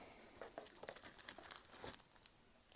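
Plastic baggies for tokens crinkle and rustle while a Guild Ball Kick Off board game box is unpacked, with quiet irregular crackles close by and no talk.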